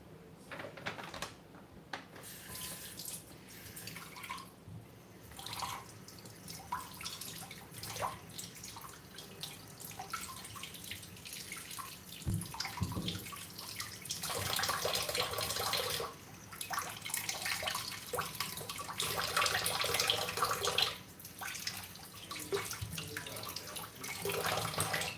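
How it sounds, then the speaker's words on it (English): A kitchen tap runs steadily while a box is rinsed under it, the water hissing and splashing continuously and growing somewhat louder as the rinsing goes on. "Yes, I'm rinsing it for you, Bud."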